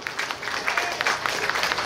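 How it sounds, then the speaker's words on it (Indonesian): A market crowd claps together at a gathering at Pasar Kembang in Surabaya, a steady, dense patter of many hands that holds evenly for the whole moment. "Boleh berikan tepuk tangan yang meriah."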